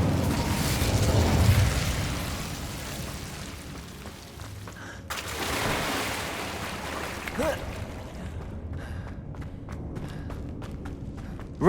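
An Incendio fire spell is cast in the video game Hogwarts Legacy, producing a broad, whooshing burst of flame that swells loud, dips, then flares again before trailing off into softer game ambience and scattered clicks.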